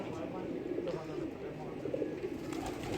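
Pigeons coo softly in a loft setting, low rolling calls repeating faintly at a moderate distance over quiet background noise.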